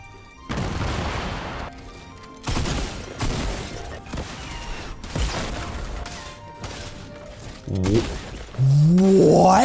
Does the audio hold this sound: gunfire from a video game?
yes